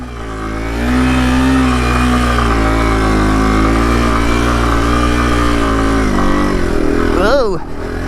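Yamaha TW200 motorcycle riding in second gear, a steady, loud engine drone that holds an even pitch for several seconds before shifting near the end, with the rider's voice over it.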